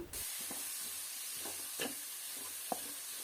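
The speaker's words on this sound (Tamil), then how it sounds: "குட்டி குட்டியாக வெட்டி வச்சிருக்க சின்ன வெங்காயம்னா நூறு கிராம் போட்டிங்கன்னா ரொம்ப அட்டகாசமாக இருக்கும் பெரிய வெங்காயத்தை சேர்த்து வதக்கிக்கலாம்" Chopped onions sautéing in a pan for an egg gravy make a constant close hiss and sizzle, broken by a few soft stirring scrapes and one sharp tap, with no talking.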